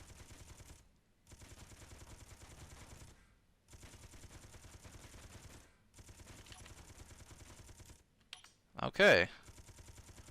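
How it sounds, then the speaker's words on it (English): A ship or handheld gun in Space Engineers fires in long, steady rattling bursts separated by short pauses, followed by a brief louder crackling impact, with a single spoken word in between. "Let's see just how damaging my gun is."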